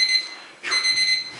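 A debate timer alarm rings with a steady, shrill electronic tone that briefly dips and resumes within about a second, loud in a hall.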